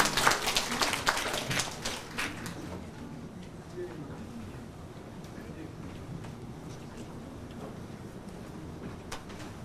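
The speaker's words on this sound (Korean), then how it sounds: "여러분 다시 한 번 더 큰 박수로 환영해 주시기 바랍니다" Audience clapping at a Korean real estate and economics investment seminar, welcoming the company presenters and a TV personality; a brief burst of applause up front that fades into low room noise.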